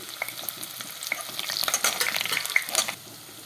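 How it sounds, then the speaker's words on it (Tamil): Onions sautéing alone in a pan for vegetable pulao give a close, crackling sizzle with busy scraping and stirring that builds in the middle and eases off toward the end. "இந்த வெங்காயம் கொஞ்சம் வதங்கட்டும்"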